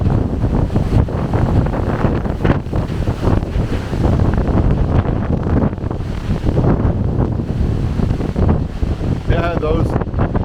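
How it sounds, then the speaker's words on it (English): Hurricane Fiona's strong wind roars across the shore at Holland Cove, Prince Edward Island, with crashing surf, a constant loud buffeting of wind against the microphone, and a brief voice near the end. "Going into the wind now."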